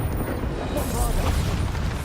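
Bombarda spell explosions in Hogwarts Legacy boom loudly and continuously while a voice talks over them.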